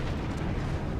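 A warship turret being destroyed by a hit in World of Warships, heard as a heavy, rumbling explosion that fills a single loud second, close and booming, with no talking.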